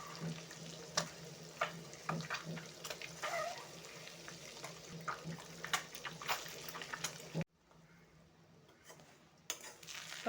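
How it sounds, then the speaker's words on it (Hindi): Egg frying in oil in a pan, a faint crackling sizzle with irregular pops that drops out briefly before resuming, quiet and close. "अभी मैं इसी तेल पे अंडा को मैं फ्राई कर लेंगे थोड़ा।"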